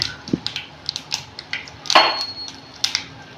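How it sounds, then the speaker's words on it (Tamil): Mustard seeds dropped into hot oil in a kadai, giving a scatter of light ticks and small clinks with one louder sizzling burst, no talking. "கடாயில் எண்ணெய் ஊற்றிக்கிட்டோம், ஹீட் ஆகிடுச்சு. இப்போ கொஞ்சோண்டு கடுகு போட்டுக்கிறோம்."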